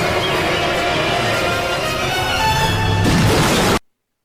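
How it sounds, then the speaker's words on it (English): A film-scene car crash blares loudly, with dense roaring and rumbling that builds to a heavier smash before cutting off abruptly. "He throws Doc out of the way of danger, dodges bullets being shot by JJ before crashing the car straight into his center."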